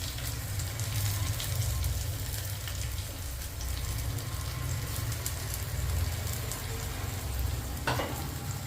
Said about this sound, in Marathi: त्याला छान आपण असं हाय फ्लेमवर परतवून घेणार आहोत